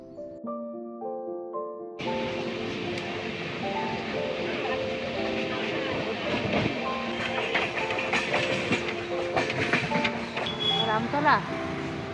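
A crowded local train on the Howrah line rolls along the rails with a steady, loud rumble and clatter that starts after a short musical intro and continues throughout, with people's voices in the background.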